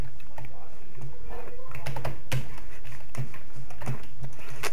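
Rapid, heavy keystrokes hammer a computer keyboard while a pixel platformer is played, giving dense, uneven bursts of close clacking with a few louder hits, and a voice talks faintly underneath.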